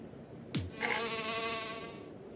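Murder flies in the strategy game Phobies give a sharp swooping effect followed by a sustained, harmonically rich insect-like buzzing whine that holds steady for over a second before fading.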